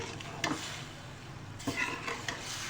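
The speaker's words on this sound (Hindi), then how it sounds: "वेजिटेबल ऐड करने के बाद हम इसे अच्छे से मिक्स करेंगे।" Vegetables being stirred in a pan with a little liquid while making spicy achari chicken macaroni, a soft steady scrape and sizzle with a few louder utensil scrapes, close and alone.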